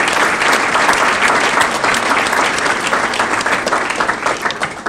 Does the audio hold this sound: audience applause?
yes